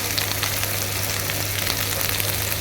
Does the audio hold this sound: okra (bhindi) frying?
yes